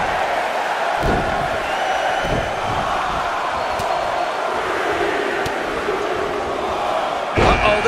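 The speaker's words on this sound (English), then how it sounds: "Listen to this crowd" A large video-game wrestling crowd roars and cheers continuously in an arena, with a few sharp thuds and an announcer's voice mixed in.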